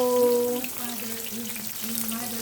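Tawilis fish frying in a pan, a steady close sizzle with light crackle, while a voice talks quietly over it.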